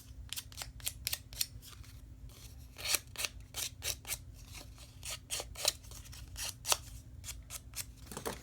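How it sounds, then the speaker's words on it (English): Small scissors snip steadily along paper edges to shred them, giving a close, crisp run of quick cuts in an uneven rhythm over a faint low hum, with no talking. "take my little scissors and kind of do a shredding thing"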